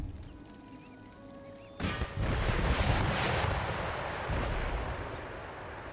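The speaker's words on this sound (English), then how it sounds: "The gunfire is just engaging the center quite nicely." Cannon and musket gunfire roar through an Empire: Total War battle as a garrison and grenadiers fight over a center line, a dense rumbling barrage that surges suddenly louder and keeps thundering without pause.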